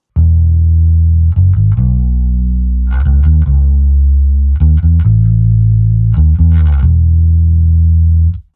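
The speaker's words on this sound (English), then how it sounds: "for the last effect, I have a chorus, which is useful for a lot of 80s rock pop songs" Electric bass guitar through a chorus effect preset plays a loud, close line of sustained low notes and short slides, with a shimmering, wavering tone and no voices.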